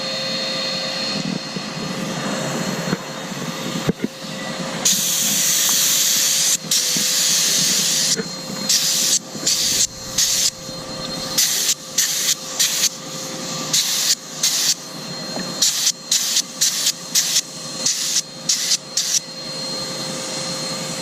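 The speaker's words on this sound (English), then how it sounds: "this vacuumed out the water, now we're blowing air through it to get it dried" Loud, steady hiss of compressed air blowing through a tire to dry out water, cut into many short bursts toward the end, with a faint constant tone underneath.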